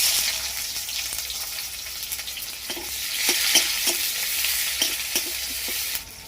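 Five-spice seeds and chopped onion fry in hot oil, a steady close sizzle with scattered crackles and the scrape of stirring, loudest midway before easing off near the end.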